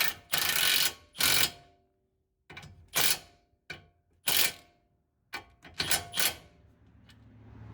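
A castle nut is tightened onto a tie rod end with a ratchet, giving short bursts of quick clicking separated by brief pauses, close and fairly loud.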